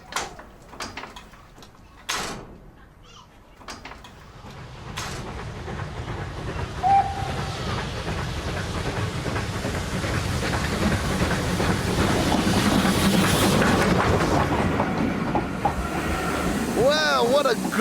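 A steam train on a railway line approaches, its rumble and hiss swelling into a loud, sustained roar as it draws near, with some clunks early on and a short whistle-like tone.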